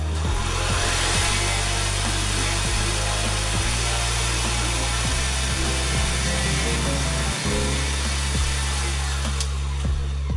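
Electric mixer on low speed churning chocolate chip cookie dough, a constant loud motor whine and drone with periodic thumps as the dough turns in the bowl, no voices.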